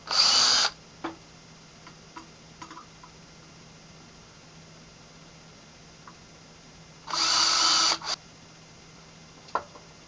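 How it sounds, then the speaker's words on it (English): A power drill drills out a rivet in two short bursts of high whining spin, one at the start and another several seconds later, with faint clicks and handling noises between them in a quiet workshop. "we're going to drill this out, replace this rivet"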